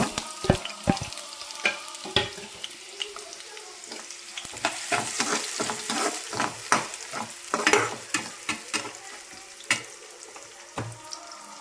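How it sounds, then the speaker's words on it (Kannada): Onion and chilli frying in hot oil, a busy crackling sizzle punctuated by many sharp spatula scrapes and knocks against the pan in an uneven rhythm, close and prominent with no voices. "ಸೊ ನೋಡ್ಬೋದು ಈರುಳ್ಳಿ ಚೆನ್ನಾಗಿ ಫ್ರೈ ಆಗ್ತಾ ಇದೆ."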